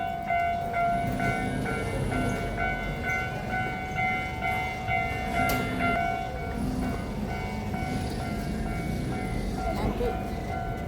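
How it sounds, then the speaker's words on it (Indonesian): A train passes near the Fushimi Inari shrine area in Kyoto, giving a steady, loud rumble with ringing metallic tones running through the whole stretch, with faint voices in the background. "Kereta lewat."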